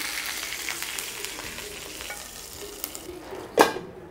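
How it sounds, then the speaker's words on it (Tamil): Mustard seeds crackle and splutter in hot oil for kalyana kootu, a continuous fine sizzle with scattered pops and one sharper burst near the end, no voices. "எண்ணெய் காஞ்சிடுச்சு, கடுகு போட்டுக்கோங்க. கடுகு நல்லா பொரிய ஆரம்பித்ததும் ஸ்டவ் ஆஃப் பண்ணிவிடுங்க."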